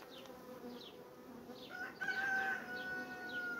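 Honeybees buzz steadily around an open hive as frames of honey are lifted out, a soft continuous drone with individual bees zipping past close by and a faint rooster crowing somewhere in the distance.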